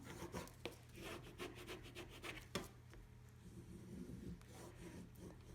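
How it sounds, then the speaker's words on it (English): Plastic scraper tool pressing 651 adhesive vinyl with clear transfer tape down onto a surface, a run of close, dry rubbing and scratching strokes in an uneven rhythm. "I'm going to just use my scraper tool and apply the vinyl down"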